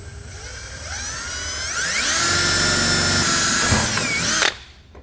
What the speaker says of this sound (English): I'm just going to use a 5/16 drill and bit, and we just want to drill all 4 of those holes out